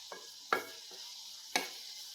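Moringa leaf thoran being stirred in a frying pan with ground coconut paste: a soft, steady sizzle broken by three or four sharp scrapes of the spoon against the pan.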